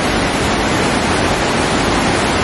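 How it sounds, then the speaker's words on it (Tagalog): Forest stream flowing fast after heavy rain, a steady close rush of water with no voices. "agos ng tubig."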